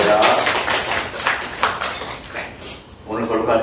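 A Korean church congregation claps during a Sunday worship service, a ragged burst of hands that rises and falls in waves across the room, with some voices mixed in.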